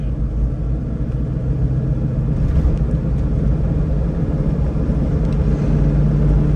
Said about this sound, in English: Into fifth.